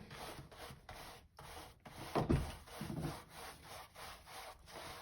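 A brush spreads wet wax over wooden furniture, giving soft, close, rhythmic swishing strokes that repeat steadily, with one heavier scrape in the middle and no talk.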